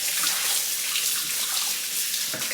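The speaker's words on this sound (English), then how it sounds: "Mommy's washing it with hot water and non-toxic soap." Hot tap water runs steadily into a sink while a baby bottle is washed with dish soap, a continuous close splashing hiss with no talk.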